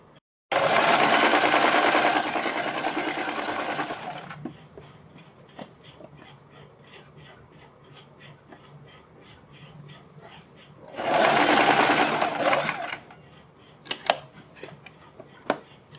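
A sewing machine stitches around a high-neck collar, running in two loud bursts of rapid needle chatter, roughly four seconds and then two seconds, with quiet handling and faint clicks between them.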